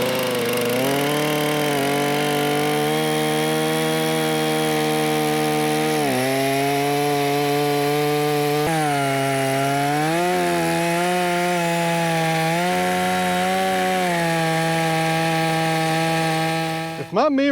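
Chainsaw cuts through a hardwood log, its engine droning loudly and steadily with pitch dips and surges as the chain bites into the wood, heard close up for the whole stretch before ending abruptly.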